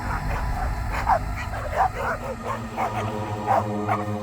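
A dog barking repeatedly in a forest at night, a series of loud close barks and yips in an irregular rhythm, used as a sound effect in a Marathi ghost story over a low steady background.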